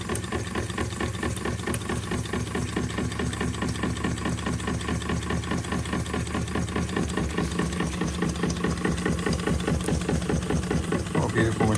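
A cleaned and descaled Empire B42 toy steam engine runs steadily, giving a continuous close mechanical chugging and rattling with a fast, even rhythm throughout.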